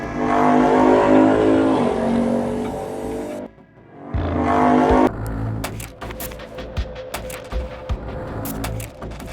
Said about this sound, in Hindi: बाइक से भैरवपुर की ओर निकलते हैं।